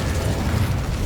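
Incendio fire spell cast in Hogwarts Legacy, a loud, steady roaring whoosh of flame that holds at full strength throughout the short burst.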